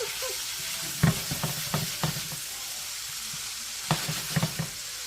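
Meatballs cooking in a pan for jambalaya, stirred gently, with a low steady sizzle and a series of soft knocks and scrapes, clustered near the start and again toward the end.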